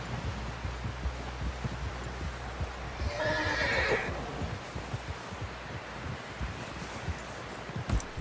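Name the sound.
horse neighing in video game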